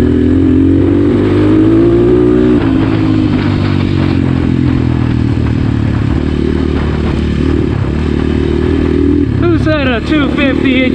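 A 2021.5 GPX FSE 250 E dirt bike engine runs loud and close throughout, with steady revving and shifting pitch and a burst of sharp rising revs near the end, with some clatter alongside.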